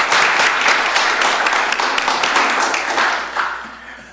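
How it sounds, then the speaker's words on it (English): Applause at a Bastrop city council meeting: a sustained, full round of clapping from the chamber audience, loud and even, tapering off toward the end. "We had a round of applause for him earlier, but I'd like to have another one."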